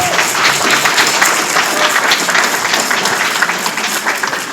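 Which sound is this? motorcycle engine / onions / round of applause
round of applause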